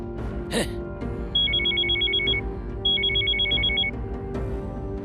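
A telephone rings with two bursts of rapid electronic trilling, heard over a low background hum and a brief clatter.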